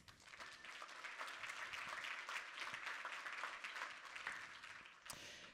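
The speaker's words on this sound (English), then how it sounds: "So let's give them a round of applause." Applause from a keynote audience at a game developers conference, dense and sustained crowd clapping with a few sharper claps standing out, fading slightly at the end.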